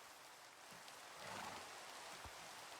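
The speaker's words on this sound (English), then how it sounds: "This rain is not very nice." Rain falling in the Minecraft video game, a soft steady hiss of drops that holds at a faint, even level with a few small low bumps and no speech.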